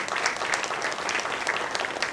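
An audience at the opening session of the 11th Bapat family gathering claps loudly, a dense burst of many hands applauding steadily and close throughout.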